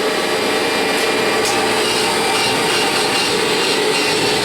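A Kirby G5 vacuum cleaner runs loud and steady, a constant broadband roar with a hint of whine, as it sucks up debris close to the microphone.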